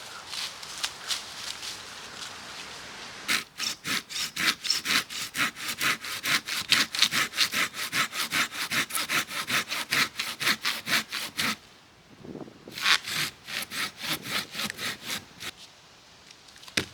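A hand saw cuts through slightly rotten firewood at a solo tarp campsite, giving a steady run of close, rhythmic rasping strokes that pause briefly near the end before a few more strokes follow.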